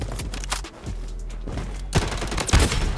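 Rapid gunfire in the shooter game Blood Strike crackles in dense bursts throughout, with heavier, punchy volleys near the end, loud and close with no talk over it.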